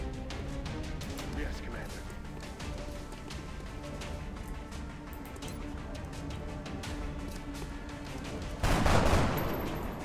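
Gunfire in the XCOM: Enemy Within strategy game, a steady run of sharp shots and impacts under ongoing game noise and voices, with a louder crashing burst near the end.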